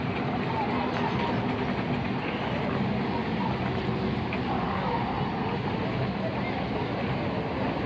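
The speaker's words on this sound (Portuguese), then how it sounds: "Vou esperar o trem passar mais uma vez" An amusement park train rolls past with a steady, loud rumble and clatter lasting throughout, while voices and crowd noise mix in the background.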